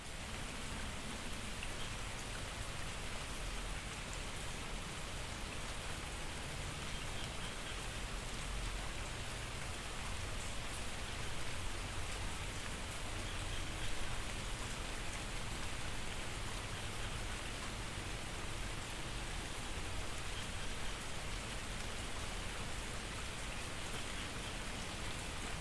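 Steady rain falls throughout a reading session at home, a dense continuous hiss with no breaks and no one talking.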